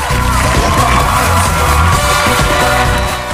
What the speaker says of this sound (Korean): 독일의 한 TV 쇼에 출연한 사이 관객들의 열렬한 환호를 받으며 등장했는데